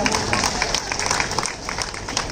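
Crowd applauding at a Jain religious gathering, a dense continuous burst of clapping that fills the space loudly from start to finish.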